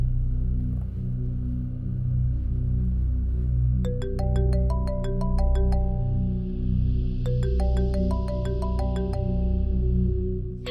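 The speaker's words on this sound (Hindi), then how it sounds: "फोन उठाओ।" A phone ringtone plays twice in a Pakistani drama scene, each time a bright, rising melodic arpeggio repeated in quick bursts, heard over a constant low hum of background music.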